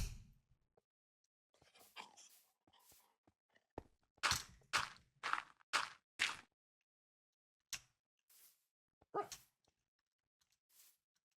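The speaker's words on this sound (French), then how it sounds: "Il y a un chien par là?" A dog barks a handful of times in short bursts at a moderate distance, with quiet gaps between barks in an outdoor setting near a port and cave.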